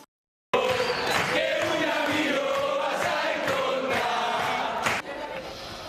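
Fans of Argentina cheer and shout together as a dense crowd inside a packed restaurant, a loud sustained roar with sharper yells rising through it over about six seconds.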